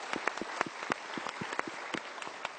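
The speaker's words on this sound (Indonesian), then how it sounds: "Sekali lagi kita berikan tepuk tangan." A small audience claps for a woman guest on a talk show, with loose, distinct hand claps close by in an irregular patter for a couple of seconds.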